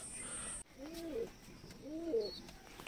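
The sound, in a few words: pigeon cooing in loft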